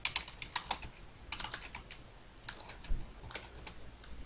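Keys clatter on a computer keyboard while code is typed into the Visual Studio editor, giving close, crisp clicks in quick bursts with short pauses between them and no talking.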